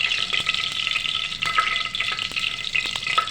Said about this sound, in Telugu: కుక్కర్లో ఆయిల్ పోసాను, కరివేపాకు వేస్తున్నాను